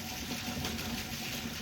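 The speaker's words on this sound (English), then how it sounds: "All the water is just gonna come gushing out." Water rushes steadily from a freshly unclogged gutter downspout, a constant broadband gush with no pauses, fairly close and alone without talk.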